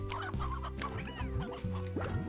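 Chickens cluck in Slime Rancher, several short, repeated clucks in quick succession, close and clear with no talking over them.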